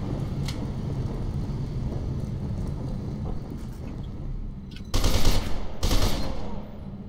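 Assault rifle fire in the shooter game Fear 2: Project Origin: a steady, dense game soundscape with a few sharp broadband shots, and a louder burst of two heavy blasts near the end.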